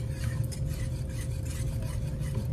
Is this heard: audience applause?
no